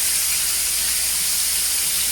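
Pork browning in a pot on the stove while cooking nilagang baboy gives off a steady, even hiss of sizzling fat that holds constant throughout, with no voices over it.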